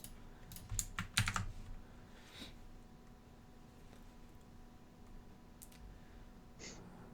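Computer keyboard typing during a coding session, a quick burst of close clicky keystrokes early on, then a few scattered taps over a quiet room hum.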